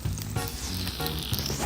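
Egg frying in a pan crackles and sizzles softly, with small spitting pops in a short, faint burst.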